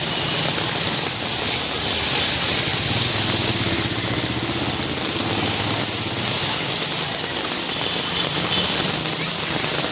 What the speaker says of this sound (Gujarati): સવારમાં સુરતમાં ફૂલ વરસાદ ચાલુ થઈ ગયો છે